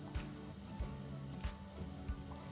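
A pot of spinach vegetable soup bubbles at a boil, a steady close hiss and simmer with soft pops and bursts every half second or so.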